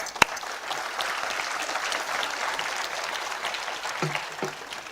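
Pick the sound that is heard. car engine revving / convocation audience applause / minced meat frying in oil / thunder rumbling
convocation audience applause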